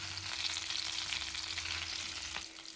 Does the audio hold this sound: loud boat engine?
no